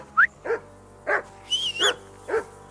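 Dog barking in the medieval video game Kingdom Come Deliverance II, five sharp barks spaced irregularly over a few seconds, close and clear above a low ambient hum, with a faint high whine between them.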